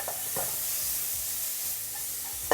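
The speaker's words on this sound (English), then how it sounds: "Now we add in 3 cloves of garlic chopped. Fry until you can smell the garlic." Chopped garlic frying with bean sprouts in a Hong Kong–style chow mein gives a steady, bright sizzle and hiss, with a few soft stirring scrapes and clinks, and no talk.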